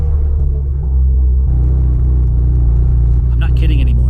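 A SEAT 132 car on the road through curves, heard from inside as a loud, steady low engine rumble with a slight rise partway through and faint higher noises near the end.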